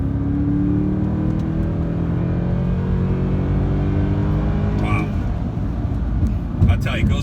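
2013 Mercedes C63 AMG under acceleration, a loud close engine drone rising steadily in pitch, then easing off around a corner with road noise and small clicks, with a voice speaking in the cabin.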